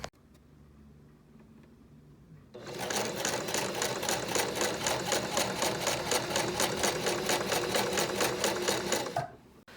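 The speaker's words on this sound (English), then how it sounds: "just sew it up with the sewing machine." A sewing machine runs in a fast, steady burst of rapid stitching for several seconds after a quieter pause, then stops abruptly.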